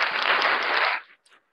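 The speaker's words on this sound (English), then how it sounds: "Where's the applause button?" Short burst of applause from a small audience, loud and steady for about a second before cutting off abruptly, followed by a faint brief trailing clap.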